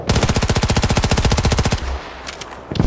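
Rapid sustained automatic gunfire in a first-person shooter video game, a dense rhythmic burst of many shots lasting nearly two seconds before cutting off, followed by quieter distant game noise.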